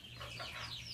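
Chickens clucking inside a barn, a dense, steady flock chatter heard up close for about a second with no talk over it.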